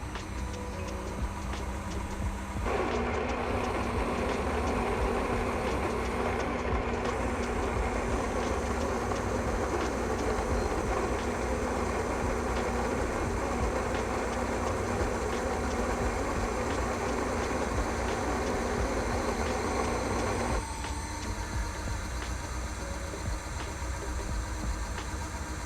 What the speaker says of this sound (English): So today we're just going to use the automatic grinding.